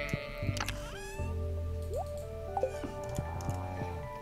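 Goats bleat in the farming video game Stardew Valley, a few short electronic-sounding calls and game effects over a steady musical background, clear and close with no talking.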